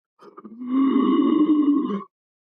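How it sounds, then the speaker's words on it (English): A single drawn-out, voiced heaving breath with a throaty H onset, lasting under two seconds, close and alone, made as a breathing exercise. "So if you put an H before you breathe, you can heave, and it sounds like this"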